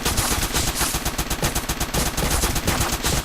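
An assault rifle fires in the top-down shooter Crimsonland, a continuous rapid automatic stream of loud shots with no pauses.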